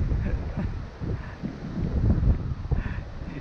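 Strong gusting wind buffets a Xiaomi Mitu FPV mini drone in flight, a dense low roar rumbling against the microphone throughout, with faint higher tones drifting in and out.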